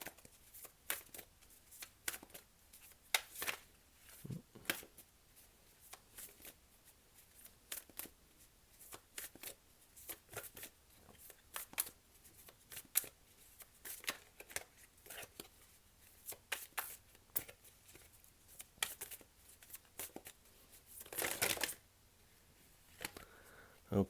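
Tarot cards shuffled by hand during a reading: a long run of quick, crisp riffling and flicking bursts, close and fairly soft, with brief pauses and one louder flurry near the end.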